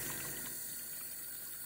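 A Samsung dishwasher filling with water gives a steady, even rush of inflowing water with a low pump hum beneath, close and continuous throughout.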